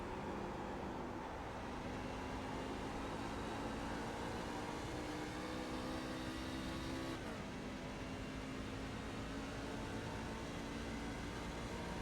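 NASCAR truck engine in the iRacing simulator at Gateway, a steady loud drone that holds pitch, dips briefly with a shift or lift around the middle, then resumes under throttle, with no talk.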